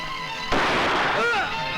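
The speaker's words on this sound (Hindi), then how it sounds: "किसने गोली चलाया?" A single gunshot cracks out in a Hindi TV drama scene, sudden and loud, followed by a noisy lingering tail and voices.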